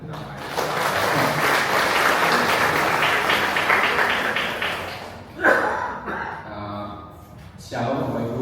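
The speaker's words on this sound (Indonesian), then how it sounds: "Tepuk tangan untuk Bapak." Applause from a church congregation at a Palm Sunday service, a steady wash of clapping for about five seconds that fades out, followed by a brief burst of voices and then quieter talk.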